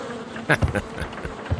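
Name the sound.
bees buzzing in Sherlock Holmes Crimes and Punishments video game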